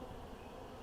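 Honey bees buzz over a hive frame, a soft continuous drone held for under a second, faint and close with no voices.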